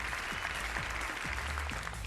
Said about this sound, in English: let's give her a big round of applause as she makes her way up on the stage